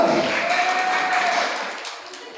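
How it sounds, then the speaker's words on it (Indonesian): An audience at a press conference for the web series Jodoh Atau Bukan applauds, a dense wash of clapping that stays steady and then slowly tapers off, with faint voices mixed in. "tepuk tangan dulu dong"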